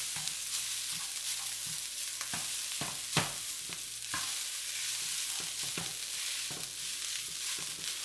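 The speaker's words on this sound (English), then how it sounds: "we're going to add the basmati rice. There we go. We're going to stir everything all together." Basmati rice being stirred and fried in a pan for beef fried rice: a steady sizzle with repeated scraping strokes of the spoon, close and fairly quiet, with one sharper knock partway through.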